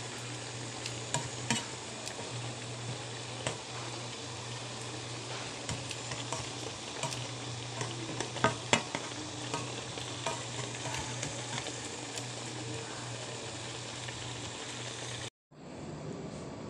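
Chicken Shanghai marinated with pepper and salt fries in a pan, a constant dense sizzle with scattered pops and crackles over a low hum, cutting off briefly near the end, no voices.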